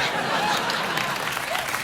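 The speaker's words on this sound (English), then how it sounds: "I get a round of applause for that as well." A late-night television talk show studio audience applauds steadily, a dense wash of clapping that holds at an even level throughout.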